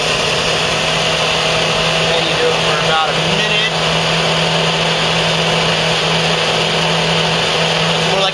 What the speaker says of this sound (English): I'm using a blender